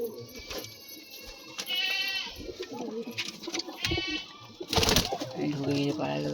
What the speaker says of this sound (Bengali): এই পায়রাটা দেখো, ম্যাড্রাস পায়রা।